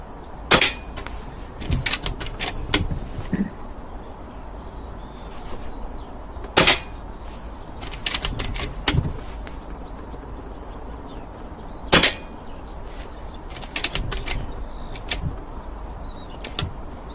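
Gunshots fired at a target at an outdoor shoot, sounding as sharp, separate cracks at uneven intervals, some in quick pairs or clusters, with quieter background noise between them.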